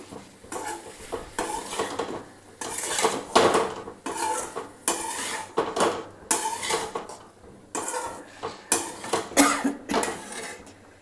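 A lid is set onto a cooking pot of potatoes and salt over low gas, heard as a run of close metallic clanks, knocks and scrapes coming in uneven bursts over a faint background hum.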